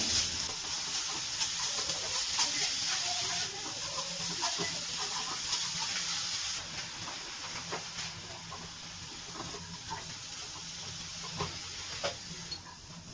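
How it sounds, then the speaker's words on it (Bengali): Grated carrot for halwa is stirred and fried in ghee over a low-to-medium gas flame, giving a steady hissing sizzle with occasional soft scrapes and taps throughout. "গ্যাসের ফ্লেমটা লো টু মিডিয়ামে রেখে ঘিয়ের মধ্যে গাজরটা ভালো করে একটু নাড়াচাড়া করে ভেজে নেব।"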